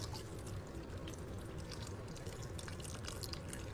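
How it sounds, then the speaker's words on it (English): Water trickles and drips into a 14.5-ounce food can in a kitchen while chili is cooked, a continuous close, soft pouring patter lasting several seconds without any voices. "Just filled up this can with some water as well."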